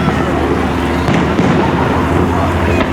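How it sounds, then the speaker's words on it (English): Pyrotechnics mounted on a Piper Cub aircraft firing during an air show display at Arbury Hall, a dense stream of crackling, popping bursts that continues for several seconds. "fitted with pyrotechnics, firing forward, firing up."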